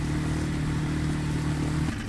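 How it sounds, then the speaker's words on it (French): A small Suzuki outboard motor on a dinghy runs at a steady, loud drone with a low hum throughout, ending with a brief clatter. "C'est royal, hein, avec ce petit moteur là,"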